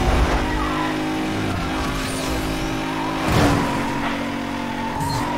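Car engine racing in Need for Speed: Most Wanted, a loud continuous revving drone with shifts in pitch, tire noise and a brief swell near the end.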